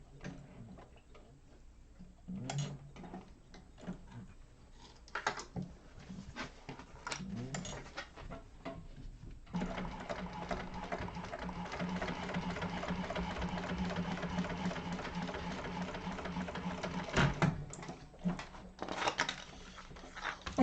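A sewing machine top stitches along the second side of a seam on a bound bowler bag, running in steady continuous bursts with pauses between, close and moderately loud.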